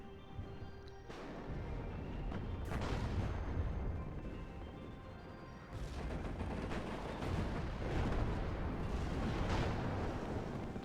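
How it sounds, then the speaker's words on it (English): Tank cannons, including a T-72 firing at close range against Challenger 2s, boom repeatedly in the real-time strategy game WARNO, several deep blasts and rumbling explosions heard fairly quietly over a constant battlefield din. "Does manage to do a lot of damage with that close range shot from the T-72 though"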